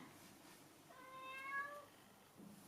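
A single drawn-out cat meow, fairly faint against a quiet background, with no talking.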